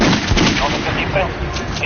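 Gunfire in the Metro Redux shooter aimed at an armored target, a quick run of loud, punchy shots close up, with speech faintly underneath.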